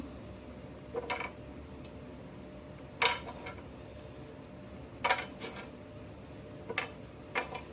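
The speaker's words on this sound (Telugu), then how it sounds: "ఇప్పుడు వీటిని చిన్న ముక్కల్లాగా కట్ చేసేసుకుందాం" A knife cuts cooled pieces of roasted gram flour and semolina on a board, giving a handful of faint, crisp clicks and taps spaced a second or two apart, with no one speaking.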